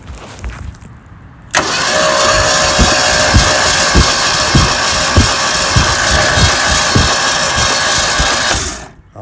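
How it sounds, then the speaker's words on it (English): The starter cranks a 1967 Lincoln engine over with a loud, rapid, even chugging rhythm that keeps going for about seven seconds without catching, then stops. The cranking begins after a short stretch of quieter background. "So I'm just going to crank it for a few seconds here and see how we do."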